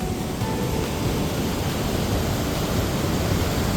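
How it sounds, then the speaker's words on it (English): A river in Langtang rushes beneath a suspension bridge, a dense, steady broadband roar of flowing water, close and unbroken, with no voices. "This is the same river."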